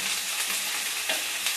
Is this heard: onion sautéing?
yes